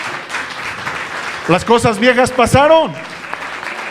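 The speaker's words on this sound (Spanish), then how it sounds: "Denle un fuerte aplauso al Señor" Church congregation applauding, a broad wash of clapping running throughout while someone speaks over it for a moment in the middle, the clapping continuing around his voice.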